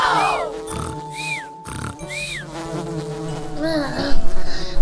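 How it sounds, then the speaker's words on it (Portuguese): Cartoon flies buzz loudly and close, their whining drones swooping up and down in pitch, with comic grunting effects mixed in. "Moscas de novo!"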